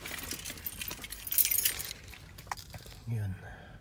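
A bunch of keys jangles in a brief bright metallic burst, close by, over a noisy background with voices.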